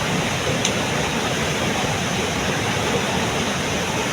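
A river in flash flood during the rainy season, with water rushing as a loud, steady, dense roar that stays unbroken throughout and is heard alone, without voices.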